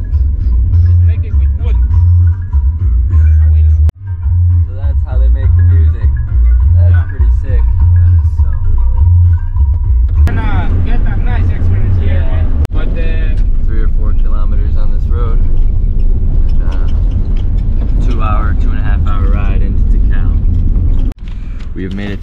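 A car rumbles along a road into the jungle toward Tikal, loud low engine and road noise heard from inside the vehicle throughout, with people talking over it.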